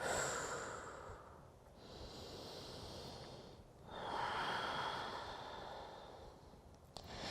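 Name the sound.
breathing during yoga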